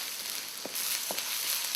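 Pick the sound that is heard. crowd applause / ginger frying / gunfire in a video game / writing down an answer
ginger frying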